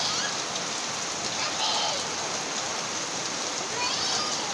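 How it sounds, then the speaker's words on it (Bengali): Rain falls steadily outdoors under dark clouds in a Bengali household setting, an even, close hiss of drops with a faint trickle of running water that holds at the same level throughout. "আর বৃষ্টি দেখুন বন্ধুরা।"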